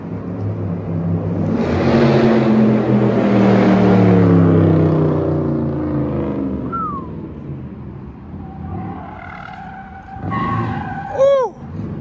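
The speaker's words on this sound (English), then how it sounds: "you can hear that car" A Dodge SRT Jeep roars loudly with a rising, revving engine, then tires squeal sharply near the end.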